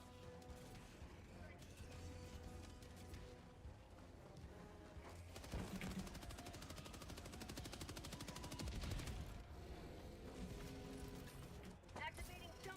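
Gunfire from a teammate in the video game Helldivers 2, a fight against bots, rattles in rapid bursts of shots and mechanical clatter, loud and dense throughout, with voices mixed in.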